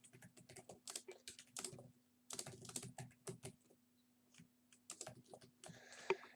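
A computer keyboard is typed on in short bursts of quick clicking keystrokes, close and fairly quiet, with pauses between bursts and a sharper final tap near the end.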